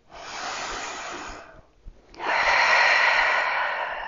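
Deep breathing during a movement exercise: one long, close, airy exhale, a brief pause, then another long, strong breath, loud and unaccompanied.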